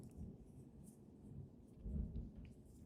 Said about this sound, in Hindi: कितने ज़ोर से बिजली कड़क रही है भाई